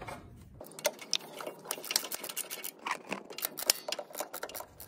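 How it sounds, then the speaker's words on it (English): Rapid, irregular ratchet wrench clicking while a fitting is tightened on a Kubota zero-turn mower during a hydrostatic oil change, close and crisp with short bursts of clicks. "Get ratchet back out."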